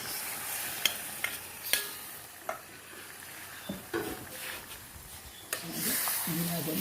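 Pieces of fish for a varaal fish curry drop into a pot and are stirred, with a run of sharp clattering knocks over a steady sizzle that grows louder toward the end.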